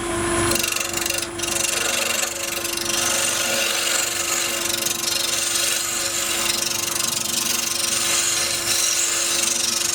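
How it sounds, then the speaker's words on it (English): Steady, continuous rasping of a tool working wood, loud and close, with no pauses and no talking. "I'm just going to trim off this little bit just to get it centred."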